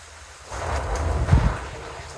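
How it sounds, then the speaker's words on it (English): A gust of wind buffets the microphone with a low, rumbling roar that swells and fades over a soft outdoor wash of rain. "Today it is raining and windy, so I hope that y'all can hear me."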